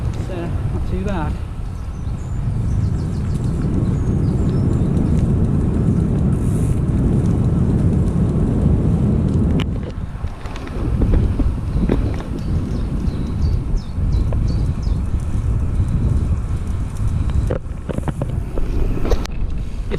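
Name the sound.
wind blowing along a cycle path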